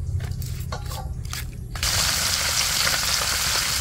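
Fish marinated with chili, MSG and salt drops into a pan of hot oil for the second of two fryings, giving a sudden loud, dense sizzle that follows quieter kitchen clatter and stays steady and close.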